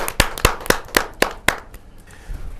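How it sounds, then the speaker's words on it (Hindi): Loud individual claps ring out at a Hindi poetry gathering, about six sharp, evenly spaced hand claps in a slow rhythm, then trailing off into quieter background. "जोरदार तालियों के साथ हम अनिल अग्रवंशी जी का स्वागत"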